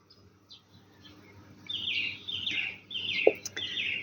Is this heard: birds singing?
yes